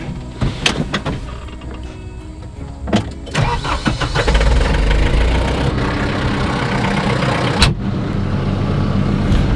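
A tractor engine cranks and starts on a homestead with sheep around, then settles into a steady, loud idle, with a few clunks and knocks early on.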